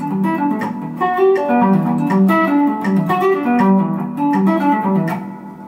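A guitar riff built on an irregular repeating note pattern, played steadily and fairly loud for several seconds with bright plucked attacks and no talking.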